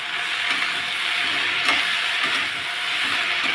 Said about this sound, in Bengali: এখন সমস্ত সবজিগুলো ভালোভাবে ভাজা হবে।